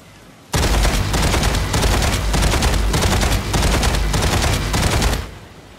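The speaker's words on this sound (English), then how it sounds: "Incoming fire." Incoming fire in the mech combat video game Mech Arena erupts as a loud, dense barrage of rapid gunfire that starts abruptly, hammers on continuously for about five seconds and then fades out.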